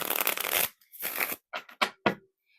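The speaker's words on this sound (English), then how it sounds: "So you go ahead and you shuffle those up." Playing cards being shuffled for a card game: a long riffle followed by a second riffle and several short, crisp bridging snaps, close and clear with no talk.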